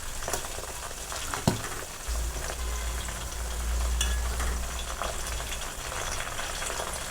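Torn hibiscus leaves being mixed into homemade herbal hair oil heating in a pan, a constant close crackling sizzle with faint stirring scrapes and a brief knock near the start, no voices.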